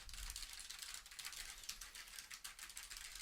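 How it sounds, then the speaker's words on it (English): Computer keyboard typing picked up through a noise-cancelling wireless headset mic, a rapid run of soft, muffled clicks and taps continuing throughout at low level. "that's with some keyboard noise in the background and how well it is cancelling that out."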